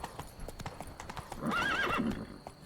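Horse hooves clip-clop in a quick galloping rhythm as Roach runs in the fantasy game The Witcher 3, followed by a loud whinny that rises and falls near the end.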